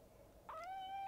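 A cat gives a single rising, drawn-out meow in a quiet room, faint and alone against a low background hush.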